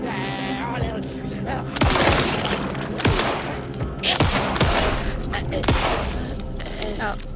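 Sharp gunshots ring out in Alan Wake II, a few loud reports spaced through the stretch amid game noise, while a person talks over the action.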